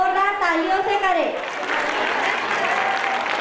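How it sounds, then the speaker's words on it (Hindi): A voice is heard briefly, then a school annual gathering audience breaks into a broad, sustained burst of clapping from many hands that carries on to the end. "इनका इस्तकबाल जोरदार तालियों से करें।"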